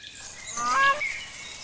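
A crane calling in the wild, a short honking, trumpet-like cry rising out of a soft outdoor background, heard once at moderate distance.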